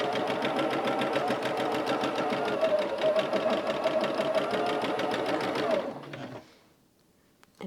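Close sewing machine stitching quilt rows, a steady rapid mechanical whir that runs for about six seconds before slowing and stopping, alone without talk.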